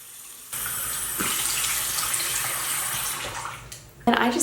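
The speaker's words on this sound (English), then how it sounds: "And then I'll wash my face with the baby bar." Running water splashes steadily at close range as a face is washed with a baby soap bar at a bathroom sink, a continuous gush that shifts near the end into a louder, brighter splash.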